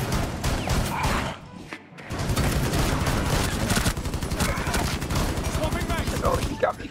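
Automatic gunfire from Rainbow Six Siege rattles in long dense bursts, close and loud, with a brief gap before the shooting resumes; a voice talks faintly under the shots.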